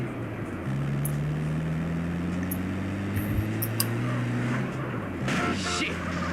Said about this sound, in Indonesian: Wah, mobil di sini tuh pada kencang-kencang guys